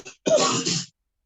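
A single close cough or throat-clearing burst lasting about half a second, loud and alone after a brief faint sound, then silence.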